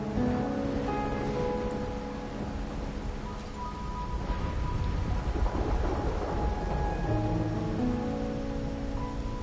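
Steady rain with rolling thunder in a storm scene from the video game Wuthering Waves, a continuous wash of rainfall with low rumbles swelling underneath, no voices.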